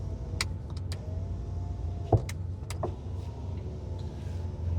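Electric driver's window motor on a 1983 Porsche 911SC 3.0L whirs steadily as the glass travels inside the parked cabin, with a few faint ticks and one sharp click partway through.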